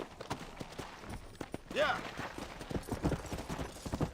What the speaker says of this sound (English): Oh, that's a zombie horse.